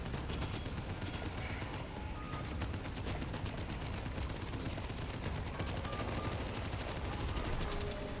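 Rapid, continuous video game gunshots from a chaotic shooter, a steady dense stream of crackling fire that fills the whole stretch without a break at a fairly low, even level.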